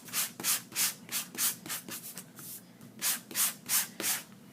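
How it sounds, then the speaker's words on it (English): Hand sanding of a painted surface while making a blackboard effect: a steady series of rhythmic rasping strokes, close and fairly soft, with no talking. "So I'm sanding that down."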